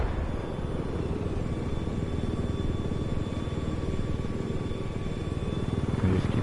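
A helicopter climbs in Battlefield 4: steady, loud rotor chop with a fast pulsing beat and engine whine runs without a break, close and continuous with no voices.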